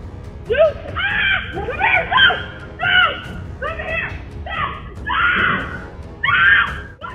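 A woman screams repeatedly outdoors while a bear chases her and her dog, a run of shrill, panicked cries in quick bursts, loud and close, over rough background noise.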